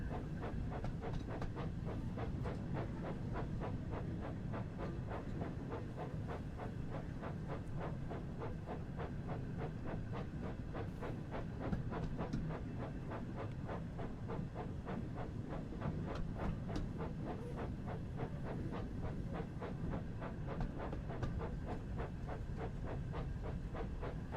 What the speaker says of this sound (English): We just steam our way down to the turntable.